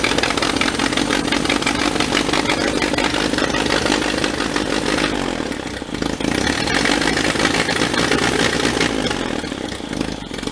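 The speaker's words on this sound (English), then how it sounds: "I gotta rev it up and adjust the air fuel mix." A completely stock barn-find 1930 Plymouth rumble seat car engine runs loud and steady, held at raised revs with a brief dip in the middle while the air-fuel mixture is adjusted.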